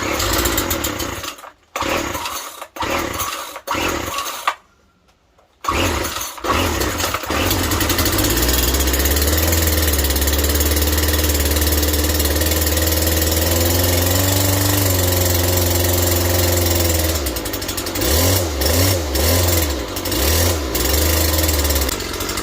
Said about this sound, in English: I'm gonna whack this area in here, get it looking a lot better.